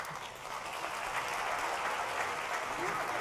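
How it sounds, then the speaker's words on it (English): A conference audience applauds steadily as panelists are welcomed to the stage, a sustained, even wash of clapping from a large crowd with no talk over it. "A big round of applause, please."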